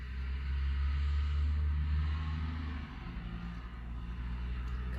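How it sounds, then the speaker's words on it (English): A truck passes by outside, a deep, steady engine rumble heard from indoors that holds for several seconds and then eases off as it moves away. "Comes another truck."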